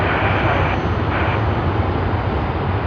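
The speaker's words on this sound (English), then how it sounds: "Vietnam Airlines, Ho Chi Minh City to Sydney on their A350" A Vietnam Airlines Airbus A350 at Sydney Airport, a loud steady jet engine roar that stays constant and close throughout.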